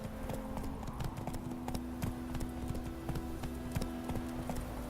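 Horse hooves clip-clopping at a steady trot in the video game The Witcher 3, with rapid close hoofbeats over a constant low drone of ambient game music.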